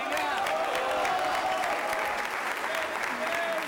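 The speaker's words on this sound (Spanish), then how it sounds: "Un aplauso, por favor." Sustained crowd applause fills a political campaign rally in Mexico as the presidential candidate is introduced, a dense steady wash of clapping with some cheering, loud and continuous throughout.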